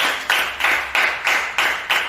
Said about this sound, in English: Shall we clap for the Lord?